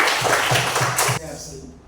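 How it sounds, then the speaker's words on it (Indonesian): Pupils in a classroom give a short round of rhythmic applause, four or five even claps under a teacher's speaking voice, stopping abruptly partway through. "tepuk tangan buat yang sudah menjawab"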